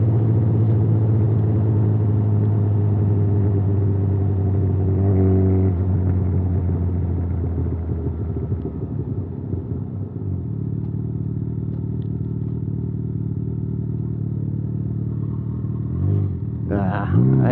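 A motorcycle engine drones steadily while riding, with a low rumbling hum that rises and falls a little as the rider changes speed, plus some wind noise and a brief rattle near the end.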